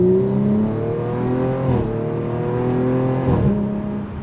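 Stage 2 tuned 2019 Audi RS5 with a 2.9-litre twin-turbo V6, revving hard up close: a loud, sustained engine note that climbs, dips briefly at two gear-like breaks, then rises again, with no talking.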